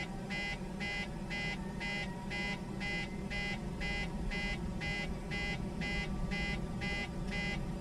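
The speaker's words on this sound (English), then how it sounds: "The hell's the beeping for, though?" A cockpit warning beeps in a Boeing 737 in Microsoft Flight Simulator, a steady, rapid series of identical electronic tones repeating about twice a second over a constant low engine drone.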